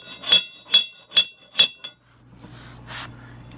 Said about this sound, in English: you just give it a little tap with a hammer